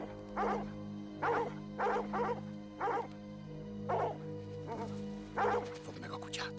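A dog barks repeatedly in short, evenly spaced yips and woofs, about eight bursts, close and clear over a steady low hum, with brief whimper-like tones near the end.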